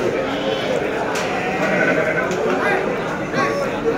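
A large Garut sheep ewe bleats at the Tanjungsari livestock market among other sheep, with constant crowd chatter, nearby voices talking and the general bustle of the market.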